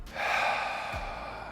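A single long, audible breath close by from someone lying over an exercise ball, a steady airy rush that gradually fades.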